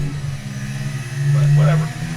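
A Formula 1 car engine in the F1 2023 video game simulator drones with a low, dull tone that swells briefly as it revs, heard beneath a person talking.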